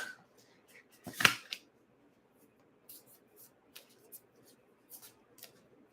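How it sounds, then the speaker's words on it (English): Tarot cards are shuffled close by, giving one brief riffling burst followed by soft scattered card taps and slides in a quiet room. "Okay, so I'm just shuffling the cards."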